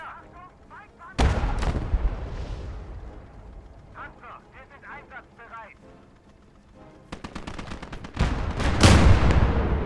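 Howitzer and machine-gun tank fire in the Gates of Hell war game: heavy booming artillery blasts and rapid bursts of gunfire, loud and close, with someone talking over them.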